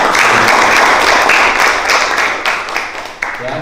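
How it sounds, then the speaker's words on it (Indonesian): An audience at a school entrepreneurship workshop bursts into loud, dense applause that holds steady and then thins out into scattered claps toward the end. "kita beri tepuk tangan buat kita semua ya"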